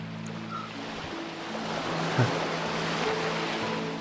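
Ocean waves wash onto a beach in a steady, soft rushing surf at a moderate distance, with a low sustained musical drone running underneath and no speech.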